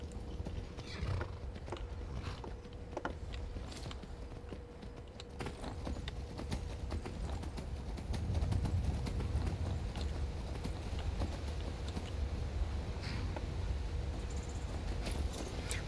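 Horse hooves clip-clop in the Skyrim video game, a steady run of soft rhythmic footfalls at a moderate distance over a low background rumble, with no talking.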